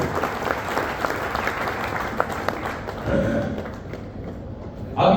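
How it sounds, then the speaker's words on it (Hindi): An audience at a direct-selling training event applauds a guest, with dense, loud clapping that thins out partway through. A voice briefly comes in near the end. "ताली बजा दो।"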